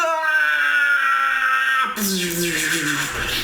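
A man screams in an animated fantasy scene, one long harmonic wail that breaks off and gives way to a rougher, noisier cry with a sudden burst of high hiss.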